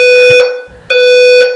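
A dorm fire alarm blares loudly in two long electronic tone bursts separated by a short gap, steady and piercing with no talking over it.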